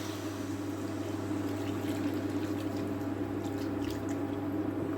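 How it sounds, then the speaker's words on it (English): Water poured steadily into a pan of chicken for a curry, a continuous close liquid rush and trickle with faint splashes, no talking over it. "So next thing I'm going to be doing is adding my water."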